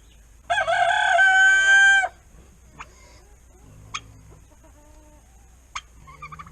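A rooster crows loudly and close by for about a second and a half, followed by a few soft, scattered clucks and short calls from pullets in a backyard coop.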